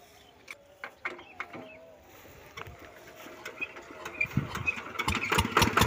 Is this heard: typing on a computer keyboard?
no